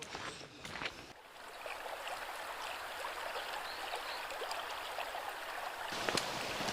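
A river flows steadily beside a hiking trail in the Pyrenees, a continuous rushing wash with a few faint knocks near the start.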